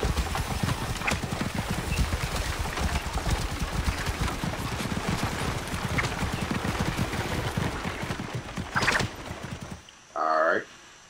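Rapid, steady hoofbeats of a galloping horse in the video game Assassin's Creed Origins pound continuously and loudly, then cut off near the end, followed by a brief whinny-like sound.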